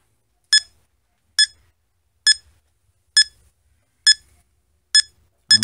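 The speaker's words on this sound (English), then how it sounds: "As we get closer to it, the beeps increase." Seven short, high electronic beeps from a WiFi analyzer app repeat at an even pace, each followed by silence; clear and close, with no talking.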